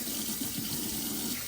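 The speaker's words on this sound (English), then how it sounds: "now for the most important part, washing my hands thoroughly with hot water" Hot water runs from a tap into a sink for hand washing, a steady, even hiss and splash lasting a second and a half, fairly close and without any talking.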